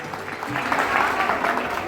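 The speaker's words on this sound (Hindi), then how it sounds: "बहुत जानदार तालियां।" Dense applause from a crowd at a Founders Day celebration fills a brief moment, steady and fairly loud, with a voice speaking over the clapping.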